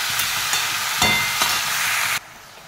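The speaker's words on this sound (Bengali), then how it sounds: "কিছুক্ষণ একটু নাড়াচাড়া করে ভেজে নিচ্ছি।" Potatoes and cabbage fry in a pan with a steady hiss while a spoon stirs them, giving a few sharp scraping knocks before the sizzle suddenly quietens.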